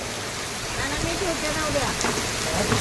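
Heavy rain driven by wind pours in a dense, steady hiss, with a voice faintly audible beneath the downpour.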